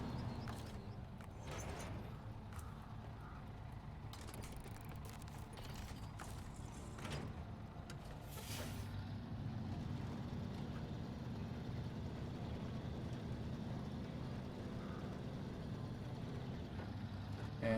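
Repair truck engine in SnowRunner on hard mode in Smithville Dam, Michigan, with a steady low rumble running under faint mechanical creaks and clunks throughout.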